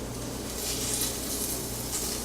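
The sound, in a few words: steak sizzling in an air fryer basket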